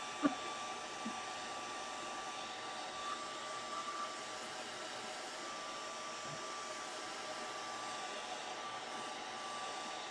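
A handheld drying tool blows a steady, even whoosh of air over a Gelli plate art card for ten seconds, close and unbroken, without talk.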